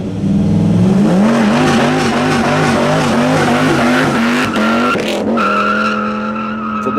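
Dodge Viper or Ram SRT10 engine fitted with a BBK throttle body, revving hard and loud throughout, rising and falling in pitch with repeated throttle blips before settling into a steady higher drone near the end.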